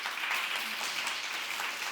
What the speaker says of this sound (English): Give a big round of applause to this amazing jury.